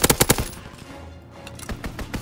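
Enemy aircraft strafing run in Call of Duty WWII: a quick burst of four or five loud, sharp gunfire cracks up front, then a low rumbling aftermath with a couple of fainter impacts near the end.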